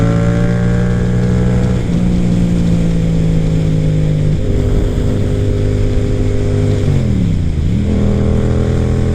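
Yamaha FZ07 motorcycle cruising at about 70 mph on a highway, its engine a loud, steady drone with shifting harmonic pitch, dipping briefly as the rider changes gear, over constant wind rush.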